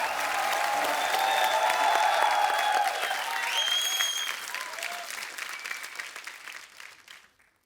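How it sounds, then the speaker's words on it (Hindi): Studio audience applause on a TV comedy show, loud continuous clapping with cheers and whoops riding over it, gradually thinning and fading away toward the end. "आप सबकी जोरदार तालियों के बीच बुलाना चाहूंगा"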